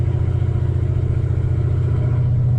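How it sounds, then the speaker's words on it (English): Dodge Challenger ScatPack with long tube headers pulling in second gear up a hill, valves closed: a loud, steady, deep exhaust drone with a rhythmic low pulsing throughout, close by, with no talking. "You'll be able to hear the exhaust echo off of that. Just in second gear going up this hill."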